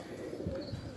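Ferozpuri pigeons, including one called Kala Toofan, coo softly on a rooftop loft, a low murmuring burble with faint chirps and background noise throughout.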